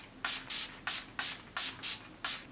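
Seven quick hissing bursts of makeup setting spray in a steady rhythm, close and crisp, each a short pump of mist.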